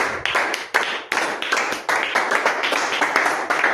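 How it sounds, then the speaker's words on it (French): Church congregation clapping in quick, uneven bursts during a worship gathering, loud and close, with sharp claps overlapping and no voices standing out. "Même les applaudissements, là, ça chasse les longueurs, ça chasse le sommeil"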